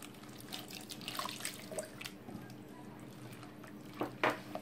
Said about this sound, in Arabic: غادي نضيف شويه ديال الماء